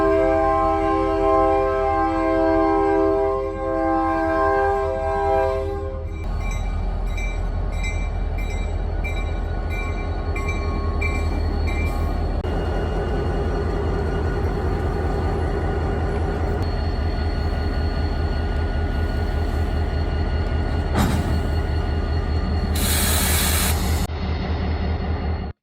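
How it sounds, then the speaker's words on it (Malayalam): Inside a moving passenger train, a steady loud rumble of wheels on track with rhythmic clacking, tonal hums shifting partway through, and a brief squeal near the end. "ഞങ്ങളിപ്പം ട്രെയിനകത്ത്"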